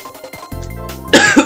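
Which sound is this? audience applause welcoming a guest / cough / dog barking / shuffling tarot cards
cough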